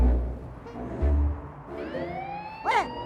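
A police car siren sounds briefly, its rising, wavering wail standing out from low rumbling background noise for a moment before fading.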